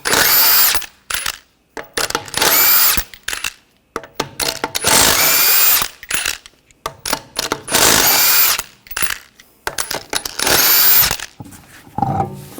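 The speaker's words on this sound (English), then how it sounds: "Take the lug nuts off." A power tool with a 21mm socket spins lug nuts off the front wheel of a 2014-2020 Nissan Rogue in about six loud, whirring bursts separated by short pauses.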